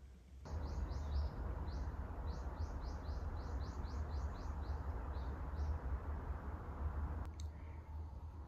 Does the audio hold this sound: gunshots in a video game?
no